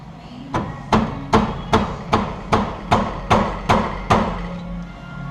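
A hammer strikes a welded wheel stud on a 1999 Jeep Wrangler Sahara, ten loud metallic blows at an even rhythm about every half second, close up and ringing briefly after each hit.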